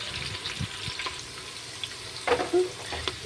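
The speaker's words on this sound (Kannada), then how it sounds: "ಈರುಳ್ಳಿ ಎಲ್ಲ ಸ್ವಲ್ಪ ಸರಿಯಾಗಿ ಬೇಯೋ ತನಕ ಸ್ವಲ್ಪ ಸರಿ ಮಾಡಿ ಫ್ರೈ ಮಾಡ್ಕೊಳ್ಳಿ" Onions frying in a pan for egg biryani give a soft, steady sizzle with occasional scrapes and stirring clatters, close and moderately quiet, with no talking.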